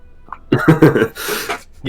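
A voice mimics a fart with a short buzzing, sputtering burst of rough noise, trailing into a hissy blow, in a tabletop adventuring game session.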